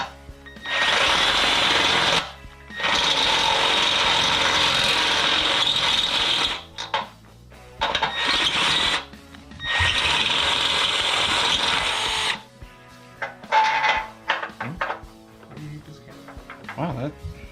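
A drill with a step bit enlarges holes in metal while fitting a front suspension kit to a 1970-81 Camaro, running in two long loud bursts separated by pauses, followed by shorter intermittent spurts.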